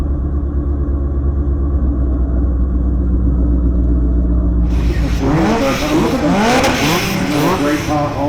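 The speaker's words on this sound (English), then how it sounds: "All of the cars in Kitfest are invited to take part in the parade down both lanes of the track, 4 abreast, and cruise past the spectators." Kit cars at Kitfest parading four abreast along a race track past spectators, a loud continuous engine rumble swelling as they pass, with voices chattering over the traffic in the second half.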